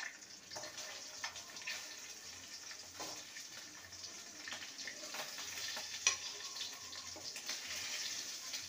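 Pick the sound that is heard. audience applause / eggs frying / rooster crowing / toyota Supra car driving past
eggs frying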